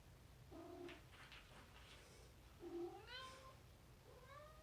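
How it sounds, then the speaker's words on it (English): A male cat, spooked by a shadow, lets out a series of agitated meows and yowls, several drawn-out rising cries in a row, fairly close but not loud, with no talking. "The cat saw a shadow. He's freaking out."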